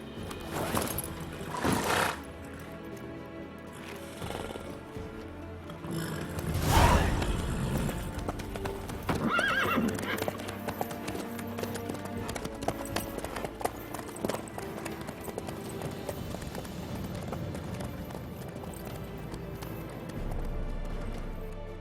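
Horse hooves clip-clop steadily at a running pace in the video game Witcher 3, continuous and fairly loud, with swishes and background game sound and brief talk early on.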